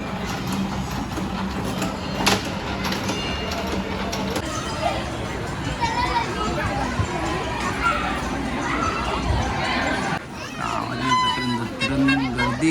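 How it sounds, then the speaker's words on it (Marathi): Dense crowd murmur and bustle at the Dahanu Mahalakshmi fair, a continuous busy hubbub with mixed voices and scattered clatter, with someone talking close by. "गर्दी"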